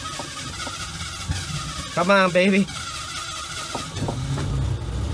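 An old car with failing brakes cranks and catches after stalling, a short loud burst of engine noise and squeal rising midway, then a low idle rumble builds toward the end while someone talks over it.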